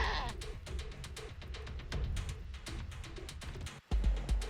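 A goat in the Wasteland 3 video game bleats in a few short, wavering cries, up close and fairly quiet, set against rustling game ambience.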